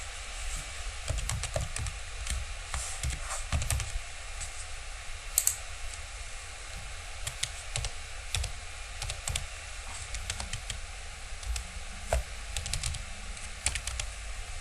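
Typing on a computer keyboard while entering header text in a Word document: steady, quiet clicking keystrokes in irregular bursts over low background hiss, with no voices.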